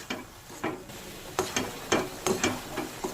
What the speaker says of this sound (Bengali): এবার অনেকক্ষণ এইভাবে নাড়তে হবে গ্যাসের ফ্লেম এই সময় আমি মিডিয়ামে করে দিয়েছি